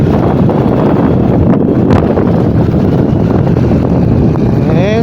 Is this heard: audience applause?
no